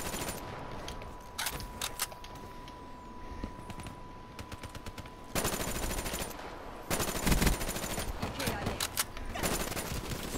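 Automatic weapon fire from the FFAR in a shooter game rattles in repeated bursts, some distant and some close and loud, with heavier sustained volleys toward the end.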